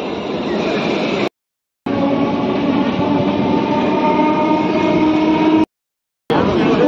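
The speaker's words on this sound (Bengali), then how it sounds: "পুরো ফাঁকা ট্রেন" A nearly empty passenger train rolls along with a loud, continuous rumble and rattle of carriages, broken twice by short gaps, close and without talk.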